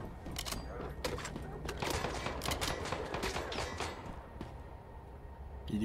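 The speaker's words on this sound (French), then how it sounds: "Il est où celui qui me tire dessus?" Gunfire in the survival shooter Once Human, an enemy firing at the player: rapid bursts of sharp shots crackle through a busy, loud mix of game sounds and thuds, with a voice speaking at times.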